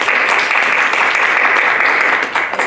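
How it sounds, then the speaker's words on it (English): A church congregation claps together in a dense, loud burst of applause at a Sunday service, steady for a few seconds before thinning slightly at the end. "So let's give them a round of applause and a honk out this morning."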